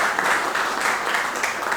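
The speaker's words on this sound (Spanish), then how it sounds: "Un aplauso nuevamente para la doctora Mabel Causarano, por favor." An audience applauds a speaker, Dr. Mabel Causarano, at a talk about water; steady, dense clapping fills the short stretch without a break.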